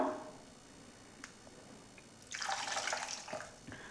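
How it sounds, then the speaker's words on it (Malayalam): Water splashes and pours into a pot of dried prawn and tomato curry for a couple of seconds after a quiet stretch with a few small clinks, close by, then trails off. "നമ്മൾക്ക് പാകത്തിനുള്ള വെള്ളം കൂടി ഒന്ന് ചേർത്ത് കൊടുക്കാം"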